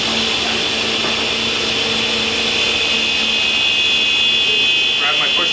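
A table saw whirring loudly at a steady, high-pitched drone that holds throughout, with a voice speaking over it.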